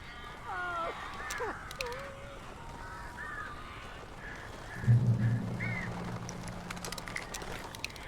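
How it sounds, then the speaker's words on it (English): Crows cawing in the video game Alan Wake Remastered, several short harsh calls scattered through the first half over a dark ambient bed, with a low thudding rumble near the end. "These birds are weird."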